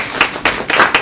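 Audience applause at an indie film salon lounge, a short loud burst of clapping from a small crowd in a room, pulsing unevenly over about a second.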